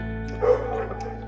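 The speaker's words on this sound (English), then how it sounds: "You hear our lab barking outside." A single short bark from a Labrador outside sounds from a distance over a steady low background hum.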